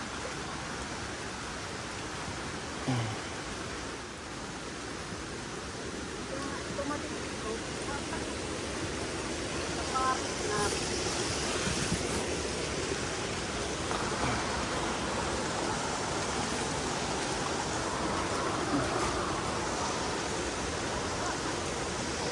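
Stream water flowing after rain, a steady broadband rush, continuous and fairly faint, with scattered distant voices.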